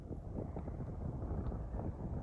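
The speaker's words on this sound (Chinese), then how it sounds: "6月份左右，内蒙古啊，天天刮风。" Wind blowing across dry sandy grassland in Inner Mongolia, a low continuous rumble buffeting the microphone without letup and no voices.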